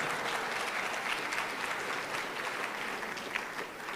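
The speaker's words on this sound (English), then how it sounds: "definitely deserves a round of applause" Steady applause from a crowd at a basketball banquet, many hands clapping continuously at a moderate distance.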